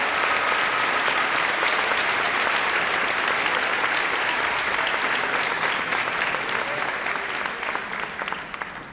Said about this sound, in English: everybody deserves a round of applause